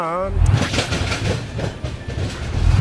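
The Secunderabad-Guntur Intercity superfast train rumbles along the rails with a steady roar and clatter, and a brief voice is heard at the start over the loud, continuous running noise.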